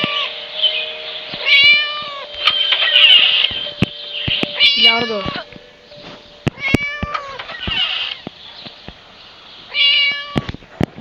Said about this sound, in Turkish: Kedinin sesini duyabiliyorum. Miyavlıyor.